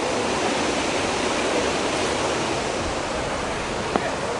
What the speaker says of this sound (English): The clean water is falling over and all the dirty water is going to the bottom.